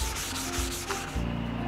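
Sandpaper rubbed by hand across a wall, producing loud, close, steady rasping strokes in a quick rhythm with no talk.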